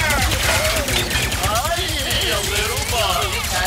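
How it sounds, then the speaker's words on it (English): Rapid energy-gun fire from a blast pistol in Ratchet & Clank: Rift Apart, a dense continuous volley of zapping shots with a person talking over it throughout. "Blast pistol."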